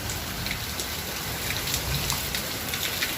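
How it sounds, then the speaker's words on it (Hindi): Heavy rain pours down steadily, a dense unbroken hiss of drops drumming on surfaces close by, with no voices. "गाइस इधर पे देखो इतनी बारिश,"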